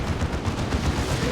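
Lascannon fire in the real-time strategy game Dawn of War 2, a dense run of heavy low booming shots in close succession, loud and continuous with no talk over it.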